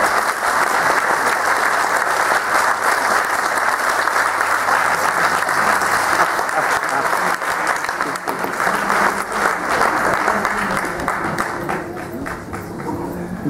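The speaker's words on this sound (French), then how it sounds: "Nicolas et le chœur Notre-Dame de Bon Voyage sur vos applaudissements." Sustained, loud applause from a large crowd, a thick wash of clapping that holds steady and tapers slightly toward the end.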